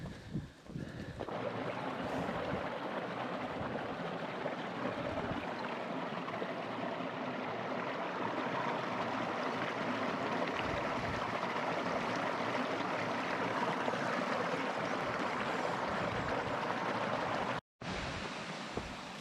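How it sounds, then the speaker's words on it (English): A brook with small waterfalls rushes steadily and close by on a moorland plateau, a continuous broad wash of flowing water that briefly cuts out near the end. "climbing up next to this lovely brook. A few little waterfalls, even a plunge pool back there"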